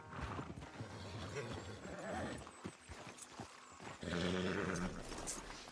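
A horse in the video game Red Dead Redemption 2 acts up, giving agitated whinnies and snorts over scattered hoof clops. The sounds are close and fairly loud, with a harsher burst toward the end.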